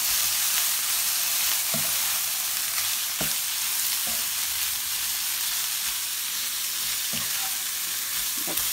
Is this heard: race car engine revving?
no